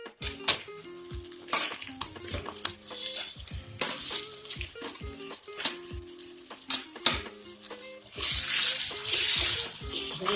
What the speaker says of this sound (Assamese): এইখিনি দি পেলাই গোটেইখিনি দি মই এতিয়া অলপ টাইম ভাজি থাকিম।